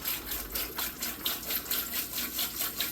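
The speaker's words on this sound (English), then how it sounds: "I'm going to go ahead and fill this canner up" Distilled water runs into a pressure canner, splashing and gurgling in a soft, pulsing rush with a regular surge roughly every quarter second, close and steady.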